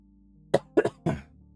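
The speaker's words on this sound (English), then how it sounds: "Sorry, keep coughing." A person coughs close up: a short throat-clearing burst followed by a quick pair of coughs and one more cough, quiet room otherwise.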